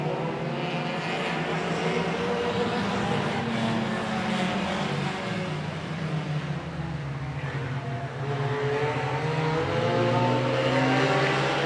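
Race cars roar around a dirt track during a heat race, a continuous loud blend of engines revving and droning as the field passes, with no break in the noise.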